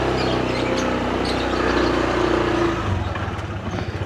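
A vehicle engine with an unusual, strained running sound idles and churns steadily at close range, a continuous rough mechanical drone with faint background activity.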